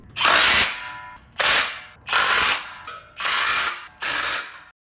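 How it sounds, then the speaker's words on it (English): A small wrench tightens bolts on a Major Fitness B52 power rack, producing five loud, close ratcheting bursts separated by short pauses, with no one talking. "you can slide the small wrench that comes with it under the support to hold the bolt head and then tighten the nut from the top"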